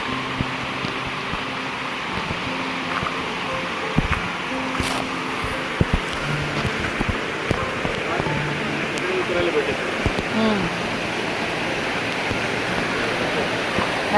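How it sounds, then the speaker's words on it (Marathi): A waterfall in Thailand roars as a steady broadband rush of falling water, with people talking intermittently over it at close range. "आणि हा आहे तो दुसरा वॉटरफॉल."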